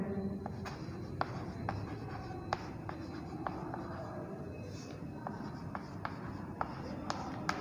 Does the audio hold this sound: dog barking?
no